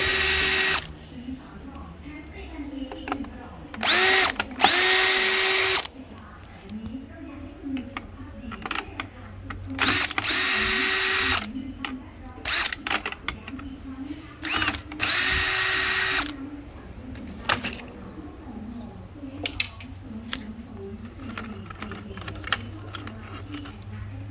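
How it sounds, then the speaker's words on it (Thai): Power screwdriver removing three console screws on a Toyota New Fortuner, several short loud whirring bursts separated by clicks and handling noise, with someone talking in the background. "เราจะเห็นจะมีน็อตอยู่ทั้งหมด 3 ตัว ตามตัวนี้นะครับ ใช้ไขควง ขันมันออกมาเลย"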